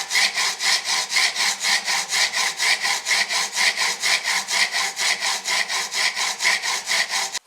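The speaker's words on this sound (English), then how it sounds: "I'm going to start with my 600 grit diamond stone." A tool being sharpened by hand on a 600 grit diamond stone: steady rhythmic back-and-forth scraping strokes, about three per second, loud and close, with no talk.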